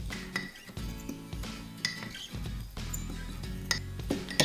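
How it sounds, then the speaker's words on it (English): A spoon mixing vanilla mug cake batter inside a mug, with quick repeated clinks and scrapes of metal against ceramic, close and moderately quiet, over faint background music. "now we must mix it. And you must mix it very well."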